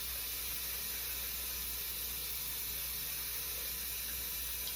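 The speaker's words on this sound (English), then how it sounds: "I just rinsed the soap off." Tap water runs steadily to rinse soap from a paint brush pad, a constant close hiss of spray into a sink with no pauses and no talking.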